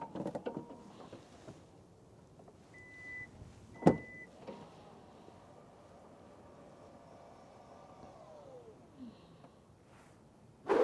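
A quiet electric motor hums steadily as a Hyundai's powered tailgate moves for several seconds, with a beep and a few clunks before and after.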